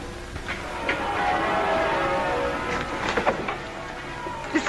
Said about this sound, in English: Listen to our wedding bells.